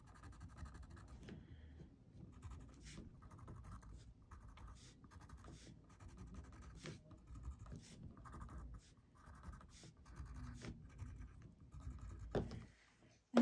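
Quiet, repeated scratchy strokes of a colored pencil shading on paper, short rhythmic scribbles with small pauses between them, close up.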